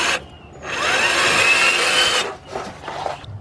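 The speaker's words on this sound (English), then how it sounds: "let me drill this out a little bit" A power drill whines steadily for a couple of seconds as it bites into metal on a 2005 Nissan Pathfinder's right front catalytic converter, then stops, followed by a few short scraping bursts.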